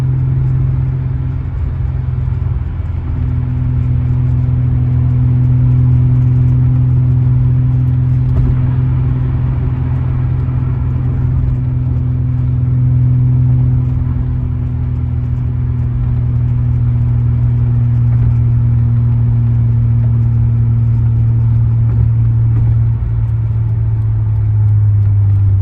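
A 1990 Nissan 300ZX with 43,000 original miles, warm and out on a mixed drive, gives a loud, steady engine drone and road rumble that hold throughout with only slight shifts in pitch. No one speaks.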